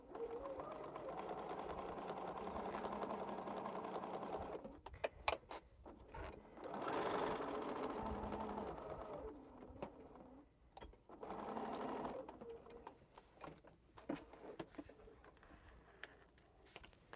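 A home sewing machine stitches thin embroidery polyester thread in rapid whirring bursts, several runs of steady buzzing separated by short pauses and small clicks, fairly close and quiet.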